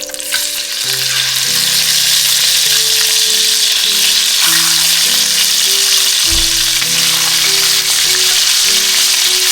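Salmon fish frying in a pan gives a loud, steady, close sizzle that holds for the whole stretch without a break, with no one speaking.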